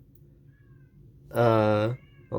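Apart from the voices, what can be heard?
cat meowing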